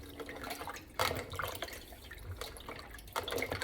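A tap runs over a pork roast being rinsed in a sink, splashing and dripping close by in uneven bursts, with a few louder gushes as the meat is turned.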